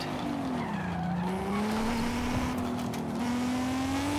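A Ferrari sports car drives fast, its engine droning with a rising and falling pitch as tires hiss and squeal on the road, steady and loud throughout.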